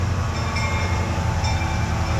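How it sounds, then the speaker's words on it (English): A tourist train rolls through Jerusalem near the Jaffa Gate and Mount Zion with a loud, constant, close rumble. Steady mechanical droning fills the whole short stretch. "This train it was introduced 2 years ago by the mayor of the city"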